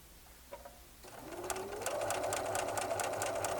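A sewing machine stitches through fabric with pins holding the seam, starting after a couple of faint clicks and settling into a steady, close rhythmic whirr with regular needle taps.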